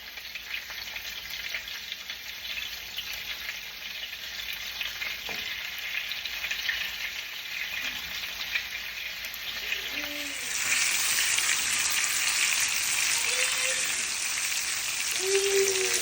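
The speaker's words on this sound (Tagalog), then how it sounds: "Ang unahon ako prito kaning bisugo." Bisugo fish frying in cooking oil in a home kitchen, a steady broadband sizzle that grows louder and denser partway through as the fish goes in, with occasional small pops and utensil taps.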